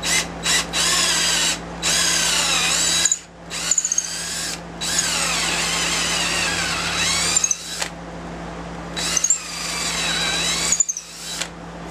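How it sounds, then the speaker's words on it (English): A power drill bores a 5/16 hole into an oak bowl blank, loud and close, running in several bursts. The motor whines up and down between short pauses, with no speech. "And I'm just going to drill it."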